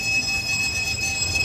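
A dark elevator ride in a video game, with a continuous rumbling, grinding hum and steady high-pitched whine, loud and unbroken throughout with no talking.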